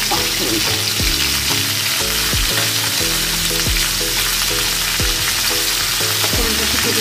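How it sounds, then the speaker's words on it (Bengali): Dried red chilli and five-spice tempering crackle and sizzle loudly in hot oil for a Bengali pui saag dish, a dense steady frying hiss close to the pan with faint stirring under it. "আমি এর মধ্যে একটা শুকনো লঙ্কা ফোড়ন দিচ্ছি"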